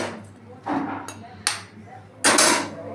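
An egg is cracked during soya chunk cooking, after turmeric and chili powder go in: a few sharp knocks and cracks spaced over about three seconds, close and fairly loud over a low steady hum.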